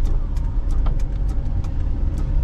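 A car driving slowly on a rainy night hill road near Kodaikanal, a steady low engine and road rumble with rain hiss and faint ticks of drops, no talk.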